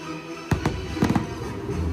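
Fireworks at the Epic Universe nighttime show burst in a few sharp pops and crackles, one sudden crack followed by a quick cluster, over a low steady background of music and ambience.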